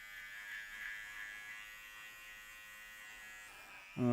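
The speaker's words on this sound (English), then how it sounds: "So I'm just gonna slide my clipper up a little bit" Electric hair clippers running over textured hair, a thin steady buzz held at moderate level close by, with a sudden louder bump right at the end.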